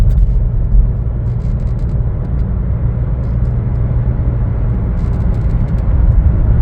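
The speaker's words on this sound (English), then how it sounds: "take for a test drive here we go" 2023 Chevrolet Trailblazer RS on a test drive, a steady low cabin rumble of engine and road noise throughout, with no talking.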